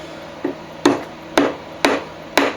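Frets hammered into a bass guitar neck resting on a solid wooden offcut: five sharp, evenly spaced knocks, loud and close, with quiet gaps between.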